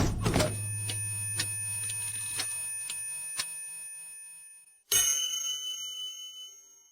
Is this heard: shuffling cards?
no